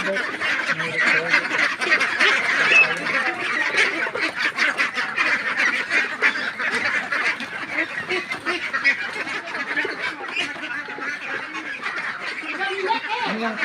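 A flock of egg-laying ducks being raised for meat on a duck farm quacks loudly and close by in a dense, continuous, overlapping chorus of honking calls.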